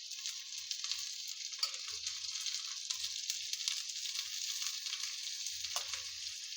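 Seer fish sizzles in oil on a hot tava with curry leaves, a steady close hiss with faint crackles and a few soft low bumps, no one speaking.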